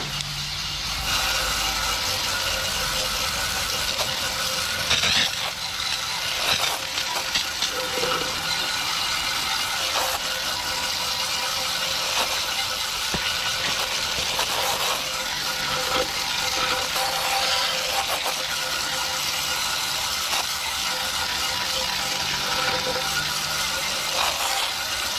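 Water sprays over a dirty HVAC blower wheel in a continuous, loud, close hiss, broken by small knocks and rattles as the spray moves across the blades.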